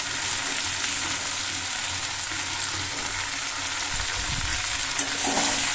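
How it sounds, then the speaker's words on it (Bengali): Chopped cabbage going into a pan of frying potatoes for a vegetarian cabbage dish, with a steady close sizzle and a few scraping stirs near the end. "এবারে এই আলুর মধ্যে সেটা এর মধ্যে দিয়ে দেবো"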